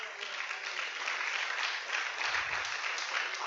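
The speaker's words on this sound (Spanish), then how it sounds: "Denle un aplauso a Él." A church congregation applauds together in a steady, dense wash of clapping that holds at an even level throughout, with a brief low rumble partway through.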